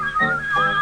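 Mickey Mouse whistles a short cheerful tune from Steamboat Willie, a clear, close melodic whistle lasting under a second with no talk.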